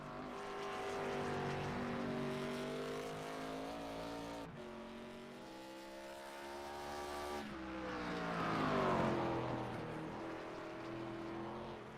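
Racing engines from a field of cars on the Lime Rock Park circuit, Bolt Racing League Legends series, rising and falling as cars pass, several overlapping engine notes shifting pitch through gear changes, moderately distant, no talk.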